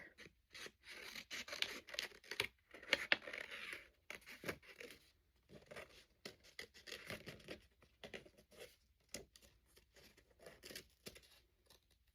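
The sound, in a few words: scissors cutting paper for a craft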